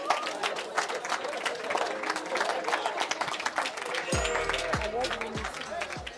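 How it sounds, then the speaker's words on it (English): Audience at a sustainability report launch breaking into applause, a dense run of clapping over several seconds with some voices mixed in, while a low hum enters near the end. "Let's give him one more round of applause."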